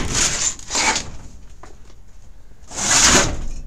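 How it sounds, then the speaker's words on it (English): A door on a pair of joined Harbor Freight greenhouses is pulled shut, giving a few scraping, rattling swishes, with a pause between the first pair and a louder final one. "Shut the door, it makes noise."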